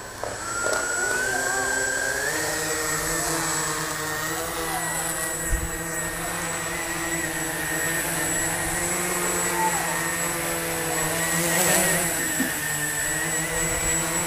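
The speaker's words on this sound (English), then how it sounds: "we show you Flying 101, the quadcopter" A quadcopter drone flies nearby with a steady high-pitched whining buzz of spinning propellers, holding a constant tone with slight pitch shifts throughout.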